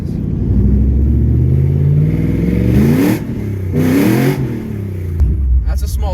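A BMW E46 with a swapped S62 V8 roars loud and close, revving hard in rising and falling sweeps as its wheels spin without traction. Someone talks excitedly over the engine.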